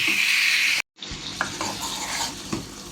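Chicken frying with masala in a pan, a loud sizzle broken by a brief silence, then spoon scrapes and stirring clatter against the pan over continued hissing.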